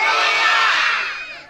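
Children in a church crowd at a parish gathering shouting together in one loud, sustained group cry that tapers off toward the end.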